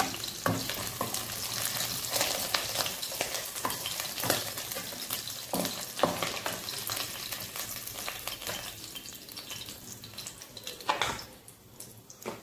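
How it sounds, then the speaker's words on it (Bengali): Tangra fish fry in oil in a pan for a spicy chochchori, with a continuous crackling sizzle broken by stirring scrapes and bubbling bursts that ease off toward the end. Nobody talks. "ট্যাংরা মাছটাকে এবার একটু ভেজে তুলব"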